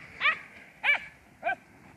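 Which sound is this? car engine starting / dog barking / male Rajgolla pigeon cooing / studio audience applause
dog barking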